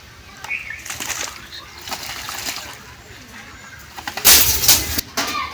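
Pigeons flap their wings and splash while bathing in water in sudden bursts, loudest near the end, over a steady background hiss.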